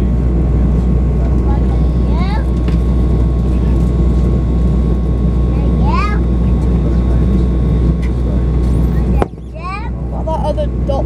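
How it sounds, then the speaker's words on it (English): A Bombardier CRJ jet landing at Birmingham Airport gives a steady, broad engine roar that fills most of the stretch, with a few bird chirps above it, before the noise drops off sharply near the end. "Waiting for a CRJ to land."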